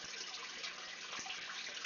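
Tap water pours steadily into an aquarium tank being refilled, a bright continuous splashing hiss with a few gurgles, close and moderately quiet.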